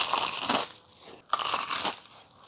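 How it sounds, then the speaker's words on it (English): Two loud, close crunches of teeth biting into crispy fried chicken coated in cornflakes, each a dense crackling burst followed by quieter chewing crackle, with no talking. "The cornflake chicken was the crispiest fried chicken I've ever tasted in my life."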